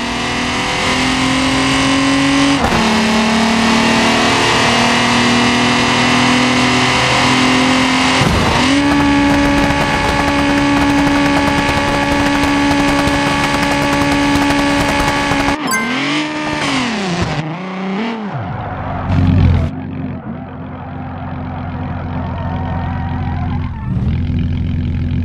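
A Volkswagen Golf in BeamNG.drive accelerating hard with a loud, steady engine whine that shifts pitch at gear changes, then a crash with crunching impacts and wobbling engine noise before quieting.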